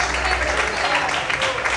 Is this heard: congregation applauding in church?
yes